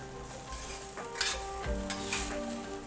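Already-cooked pasta heated in a pan with mussels, a soft steady sizzle with repeated stirring and scraping, plus a few light clinks of utensil against the pan.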